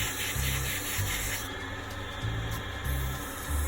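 Wet sanding an acrylic piece by hand: a continuous close, gritty rubbing with a steady back-and-forth rhythm of strokes, moderately loud and without talk.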